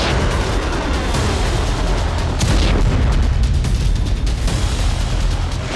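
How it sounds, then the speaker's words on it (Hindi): Hezbollah missiles exploding over Israel: dense, loud rumbling booms and cracking blasts that continue without a break, with rapid bursts like gunfire layered over a deep roar. "7 नवंबर की भोर होते ही हिजबुल्ला की मिसाइलें गरजी"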